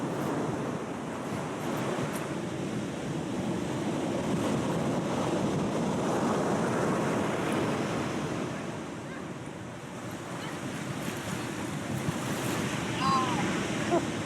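Ocean surf at a river mouth rolls onto the shore in a steady broadband wash, swelling and easing as waves break, with wind buffeting the microphone throughout.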